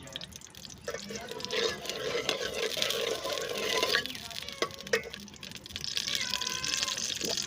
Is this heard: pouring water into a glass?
yes